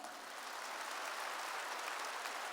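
A Korean church congregation claps together during a pastor's sermon, an even, sustained wash of many hands that sounds faint and distant, with no talk over it.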